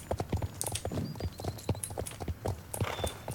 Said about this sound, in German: Wir reiten jetzt einfach mal wieder zurück.